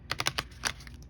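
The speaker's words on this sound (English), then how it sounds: "Don't judge my shuffling." Oracle cards are shuffled by hand, a quick close run of soft papery clicks and flicks in an uneven rhythm, faint and brief, with no talking.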